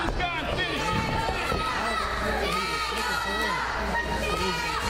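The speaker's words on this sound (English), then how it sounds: "Crowd saying Kyndel sucks, letting it know" Wrestling crowd in an arena chanting in a steady rhythmic unison, loud and continuous over a dense bed of chatter and noise.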